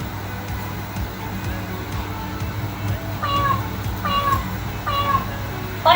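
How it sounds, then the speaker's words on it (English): A cat meows three times in a row from a tablet, each call rising and falling, moderately loud over a low background hum. "It's a cat."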